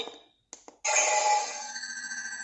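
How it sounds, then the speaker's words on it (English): Dark saber sound font on a Kyojin lightsaber from The Pach Store, igniting with short crackling bursts and then settling into a loud, high-pitched humming tone heard alone. "I think this is the sound of a dark saber"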